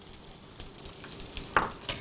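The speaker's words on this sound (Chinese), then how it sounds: "把葱姜煸香" Scallion and ginger sizzle in hot oil in a wok while being stir-fried before pork ribs go in, a close crackling fry with small pops and stirring scrapes and one sharper clack.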